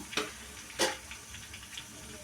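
Onion-tomato masala with spice powder frying in a pan makes a soft, steady sizzle, broken by two brief scraping strokes of a spoon near the start; close and quiet, with no talking.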